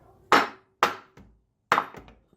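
Three sharp hammer blows on a wooden block, driving a part back into a 4Motion front differential, each a loud knock with a short ringing tail, plus a fainter tap in between; no talking.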